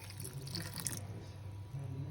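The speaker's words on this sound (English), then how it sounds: "So right now I've added about 1/2 cup, so I may need to add more water into this" Water pours steadily into a bowl of pakora batter, a soft continuous trickle and splash that runs alone for about a second and then gives way to faint wet mixing sounds.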